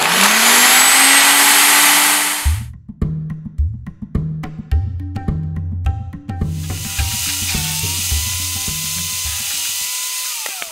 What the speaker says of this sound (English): And we're gonna turn it on, pushing the green button.